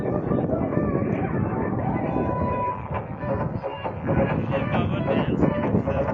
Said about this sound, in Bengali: এই যে পিছে আমাদের নৌকা চালাচ্ছে ইঞ্জিন।